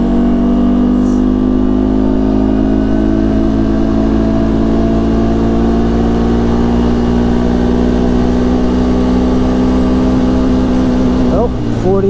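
Engine of a 2016 Arctic Cat XC 450 4x4 ATV held at full throttle on a light downhill, a loud steady drone with strong harmonics that climbs gradually before easing off at the end.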